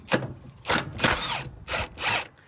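A ratchet wrench works 14 mm strut bar bolts loose on a Nissan 350Z in five quick, close bursts of clicking with short pauses between them.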